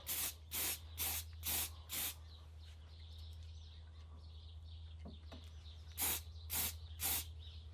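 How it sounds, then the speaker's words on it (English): A spray paint can hisses onto a vice in bursts: five quick rhythmic sprays, a pause, then three more, close and loud over a steady low hum. "My vice is getting a respray"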